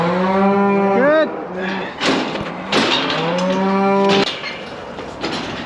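Cattle on a farm during fluke treatment moo loudly and close by: two long, drawn-out lows with a shorter one at the end, separated by a few dull thuds and shuffling.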